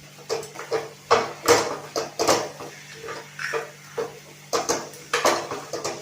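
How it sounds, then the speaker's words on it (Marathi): A spoon scrapes and knocks against a pan while a sticky coconut barfi mixture is stirred, giving a series of irregular clinks and scrapes over a low steady hum. "हाताला चिकटपणा येईल तोपर्यंत आपण सारखं परतत राहायचं।"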